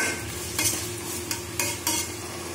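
A spoon stirs salt into an onion and tomato mixture in a hot pan, steady sizzling of frying underneath with several distinct scraping strokes close by, no voices.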